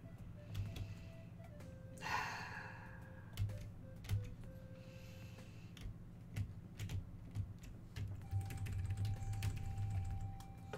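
A computer keyboard clatters with quiet, irregular keystrokes and short bursts of typing while the game Forager plays, with a faint tonal hum and game sounds behind.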